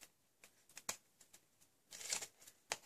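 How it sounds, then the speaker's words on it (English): Scissors snip through folded paper to cut a diamond shape, a series of faint, crisp snips and rustles in irregular bursts, close and quiet. "you fold and then just cut"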